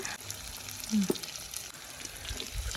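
Salted fish fries in a pan, a faint steady sizzle under a brief murmur of voice and a small knock.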